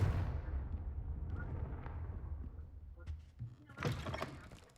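A booming magical blast from a Confringo spell cast with a wand: one heavy low explosion that rumbles and decays over several seconds, then a few scattered crackles and thuds. A voice calls out over the end.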